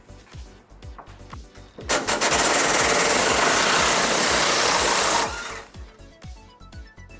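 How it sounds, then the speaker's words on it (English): An impact tool works an 18mm socket on a rear frame bolt of a 2011 Ford Ranger during trailer hitch installation, with a loud sustained buzzing rattle lasting about three seconds between quieter clicks and knocks. "we're going to remove this bolt towards the rear of our frame using an 18mm socket."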